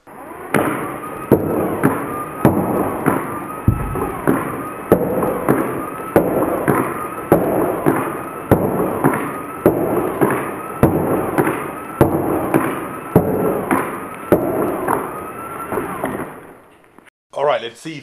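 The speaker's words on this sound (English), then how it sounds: "All right, let's do a few test shots." A modified bolt launcher with a solid bolt fires a long series of test shots, each a sharp loud crack, evenly spaced about once a second, close by and alone, ending with a brief clatter.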